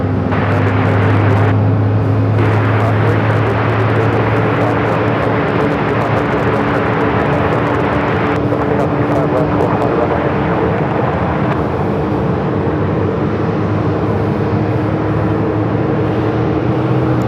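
An American Airlines A321neo arriving at Phoenix Sky Harbor from LAX, a loud steady jet roar with a constant low engine drone throughout, no talking.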